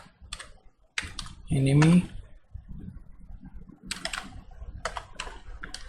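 Typing on a computer keyboard while entering text in Photoshop: quick bursts of clicking keystrokes between pauses, with someone talking over them.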